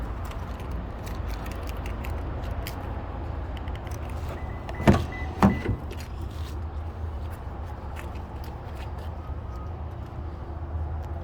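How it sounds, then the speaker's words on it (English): A 2018 Toyota Tundra TRD Sport's power locks actuate with two sharp, close thunks a moment apart over a low, steady background hum. "Power locks, power windows over there."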